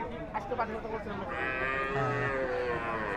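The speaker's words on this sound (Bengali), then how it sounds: "এখানে দেখতে পাচ্ছি অনেক বড় বড় গরু" Cattle at a cow market moo in a long, low, drawn-out call amid the busy murmur of the market, with people talking nearby.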